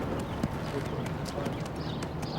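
Steady hoof clip-clop from horses moving nearby, with faint voices and outdoor background noise throughout.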